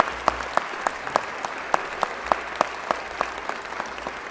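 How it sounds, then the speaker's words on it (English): Applause at a city council meeting comes as a sparse, moderate clapping texture with sharp individual claps standing out at a rough regular pace over a low background hum. "Douglas, give Doug a round of applause."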